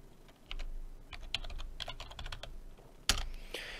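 Typing on a computer keyboard: quick, uneven runs of crisp key clicks close by, with one louder clack near the end, alone and without speech.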